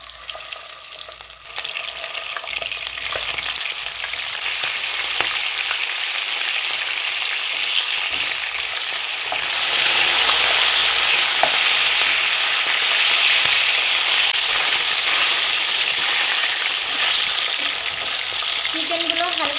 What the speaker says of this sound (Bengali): এবার চিকেনের পিসগুলো হালকা ভেজে নেব